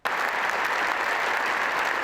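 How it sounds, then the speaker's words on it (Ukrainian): Members of the US Congress give a standing ovation during Zelensky's speech in Washington, a dense, loud, continuous roar of clapping from a large crowd. "конгресмени більше 20 разів аплодували стоячи"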